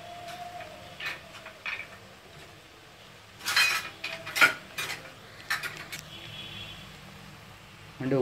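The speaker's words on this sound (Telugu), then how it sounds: "ఆనియన్ కొంచెం బ్రౌన్ వచ్చే వరకు వేయించుకుంటే కర్రీ చాలా టేస్ట్గా ఉంటుందండి" Onions frying in a pan for Indian-style prawn curry are stirred with a utensil, giving soft, faint scraping and occasional clinks against the pan over a low sizzle, in short irregular bursts.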